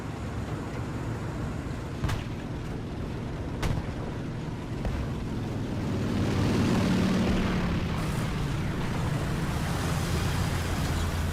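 Engine rumble from a vehicle in War Thunder, heard from a T-34E STZ tank, drones steadily at moderate volume, swelling louder midway with a couple of sharp clanks and thumps in the first half.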